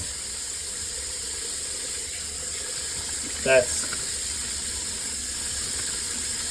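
Clams blanching in hot water at a Higgins Beach clam dig, a steady steamy hiss throughout with one short knocking clatter near the middle.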